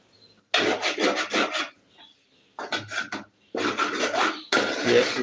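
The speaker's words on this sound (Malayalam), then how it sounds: "നമുക്ക് നന്നായിട്ടൊന്ന് ഇളക്കി ഒന്ന് റെഡിയാക്കാം" A semolina (rava) mixture is stirred in a pan, making close, rhythmic scraping and rasping strokes. They come in several bursts with brief pauses between them.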